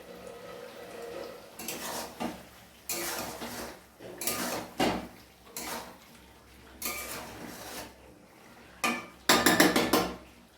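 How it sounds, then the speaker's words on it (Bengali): Meat curry stirred in a metal pot and then covered, with repeated bursts of scraping and clanking from a utensil against the pot, separated by short pauses, and a final louder rattle of the lid. "একটু নেড়ে ঢেকে দেবো।"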